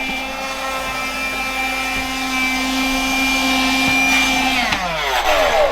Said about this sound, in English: my window vacuum is exactly the same size as the pane of glass